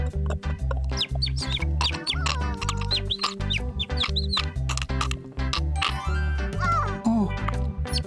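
Busy, high chirps and peeps of newly hatched baby birds in a children's cartoon, over a loud, continuous musical bed, with birdlike calls scattered throughout.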